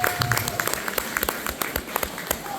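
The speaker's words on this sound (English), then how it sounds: "So big round of applause." A school audience claps over an award announcement for a strong exam result, brisk, close, uneven hand claps scattered across a short burst, with faint voices in the room.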